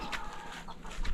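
Layer hens cluck on a poultry farm in Uganda, a steady murmur of several birds close by with a few sharper clucks rising over the flock.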